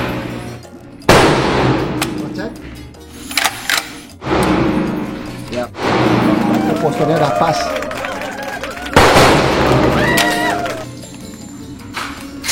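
A pistol fires three loud, sharp shots spaced several seconds apart, each a sudden close bang, with people talking in between the shots.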